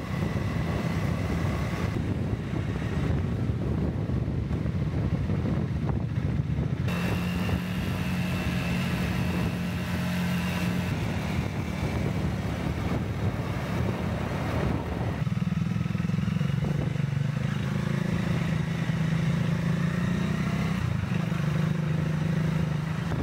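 Triumph motorcycles cruise along a coastal road on Jeju, their engines a continuous drone heavily buffeted by wind noise across the whole ride, with a shift in engine pitch partway through.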